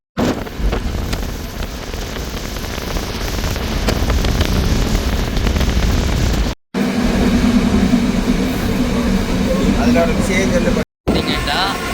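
The Yal Devi passenger train runs along the railway near Mangulam station with a loud, continuous rumble and rushing wind noise, broken by two brief dropouts, while a person talks over it.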